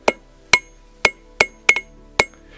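A blacksmith hammers a taper on the anvil horn with seven sharp, ringing metallic strikes at an uneven, roughly half-second pace. The blows are loud and close, and each rings briefly before fading.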